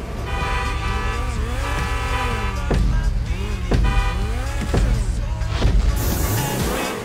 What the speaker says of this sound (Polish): Ludzie szaleją zawsze wszystkimi tymi klaksonami na początek.